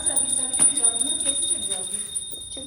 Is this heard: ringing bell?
yes